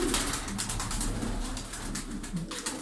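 Tumbler pigeons cooing close by, soft low repeated coos over a dense bed of fluttering and rustling, with no talking.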